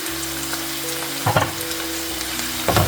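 Onion, sliced tomato and coriander leaves fry in a pan with a continuous close sizzle, punctuated by two short bursts of stirring.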